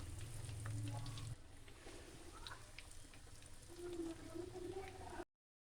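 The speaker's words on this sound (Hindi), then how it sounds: "बाब हमारे फ्राई हो रहे हैं।" Chicken and potato kebabs frying in hot oil, a soft, faint bubbling sizzle with light crackles and a low hum under it, ending abruptly in silence.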